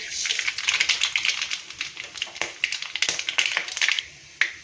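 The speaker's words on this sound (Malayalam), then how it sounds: "എണ്ണ ചൂടായിട്ട് നമുക്ക് കടുക് പൊട്ടിച്ചെടുക്കാം" Mustard seeds splutter in hot oil at the start of a chana dal curry, a dense run of sharp, irregular close-up pops and crackles that thins out near the end, leaving one last loud pop.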